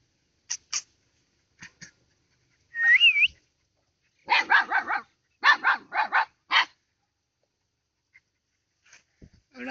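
A female dog and her puppies bark in sharp, separate bursts, with a run of rapid yips in the middle. A brief whistle sounds between the barks, and silence falls between the clusters.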